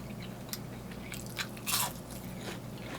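Crunchy beer-battered onion rings from a burger joint are bitten and chewed close to the mic, giving a few crisp crackling crunches over a low background hum.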